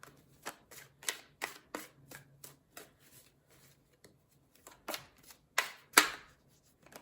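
Tarot cards shuffled by hand, a series of soft, quick riffling bursts at irregular intervals, some louder and closer than others, with faint pauses between.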